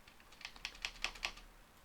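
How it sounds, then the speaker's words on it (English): Typing on a computer keyboard gives a short burst of about six or seven crisp, evenly spaced clicks, close and fairly quiet, with no voice. "let's go ahead and type something in here"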